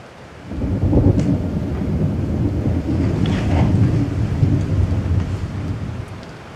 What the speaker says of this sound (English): Look, Peter, that cat is out there in the rain again